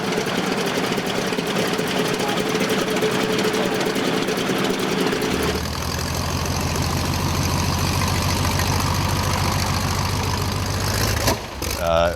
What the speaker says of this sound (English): Pretty much all the radials are high torque, low RPM relative to modern engines. So they have a different sound.